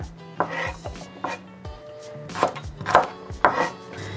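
Sharp knife strikes chop vegetables on a board for eggplant stir-fry in an uneven rhythm, several crisp cuts close by with short pauses between them.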